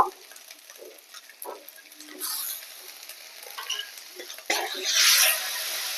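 Tomato paste hitting hot oil in a pan while cooking Bengali rui posto, a sizzle that swells loudly near the end as it is stirred, after quieter scraping and stirring.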